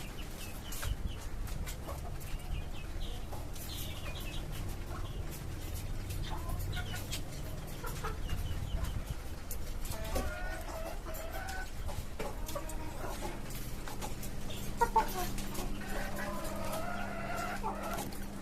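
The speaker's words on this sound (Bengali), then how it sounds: "এই খাঁচায় আরও দুইটা দেশি মুরগি আছে" Native hens cluck and murmur nearby in a cage on a rooftop farm, over steady farmyard background noise, with occasional louder clucks toward the end.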